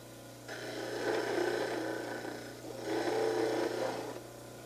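A motorized model trimmer hums steadily as it grinds the sides of an orthodontic plaster model. Two separate gritty, rasping passes of about two seconds each rise above the motor hum, close and fairly quiet.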